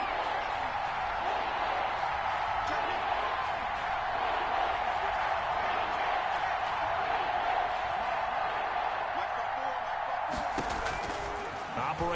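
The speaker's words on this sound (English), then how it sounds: "The crowd getting into it as we come up on a big 3rd down." Stadium crowd in an American football video game roars in a steady, loud wash ahead of a big third down, sustained throughout with a commentator talking over it.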